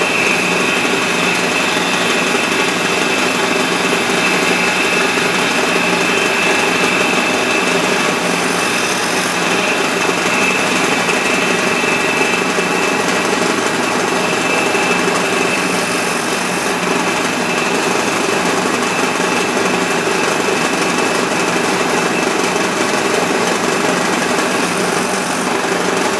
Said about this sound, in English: I'm going to drill those holes, and you can see how this particular machine, I'll do them one at a time, and you can see how this machine starts to work.